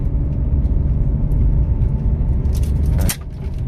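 A BMW E46 330i with a slow-shifting gearbox holds a steady revving engine drone near 3,000 rpm, low and close, and then eases off abruptly near the end as the revs drop.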